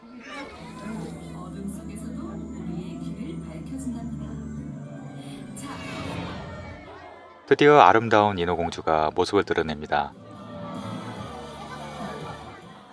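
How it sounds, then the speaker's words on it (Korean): Children cheer at an indoor aquarium mermaid show: after a narrator speaks over a soft crowd murmur, a loud burst of excited shrieks and cheers rises for a few seconds, then fades back to background chatter. "아이들의 환호가 정말 대단하죠?"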